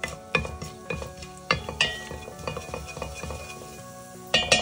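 Cumin seeds go into hot oil for chickpea and dalia khichdi, a light sizzle under repeated sharp clinks and scrapes of a metal spoon against the pot.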